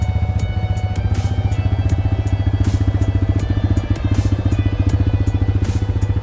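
A motorcycle rides along with a loud, close engine putting out a fast, even, pulsing thump, a steady throbbing drone that holds the whole time with no voices.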